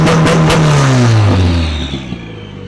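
A turbocharged Honda K-series engine swapped into an FRS drift car revs hard, its pitch sweeping downward as the rev falls away over about two seconds, loud and close.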